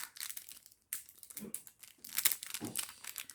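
Plastic packaging around a silicone ring size reducer is crinkled and torn open close up in quick irregular bursts with a short pause, fairly quiet, no speech.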